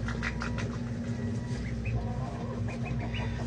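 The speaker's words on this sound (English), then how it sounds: "I have some pet ducks, and I'm going to see if I can communicate with them." Pet ducks calling in short, repeated honking bursts over a steady low farmyard hum, fairly close and continuous with no talking.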